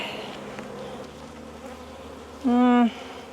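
Honeybees at an open beehive on a small farm give a low background hum, then a single bee buzzes loudly and very close for about half a second.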